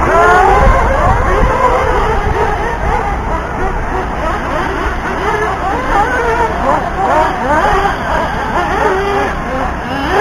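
Four-wheel-drive RC buggies race around a dirt track at a points race, their electric motors whining in a dense, continuous blur of high-pitched buzz over crowd chatter and a commentator's voice.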